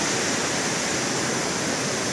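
Waterfall at Cachoeira do Quilombo (7 Barras) pours in a steady, loud, full roar of falling water, continuous and close, with no voices.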